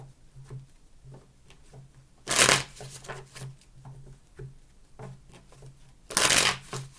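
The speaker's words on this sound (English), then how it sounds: "Three shuffles." A tarot deck gets two brisk, loud riffle shuffles several seconds apart. Quieter card handling and a faint low hum fill the gaps.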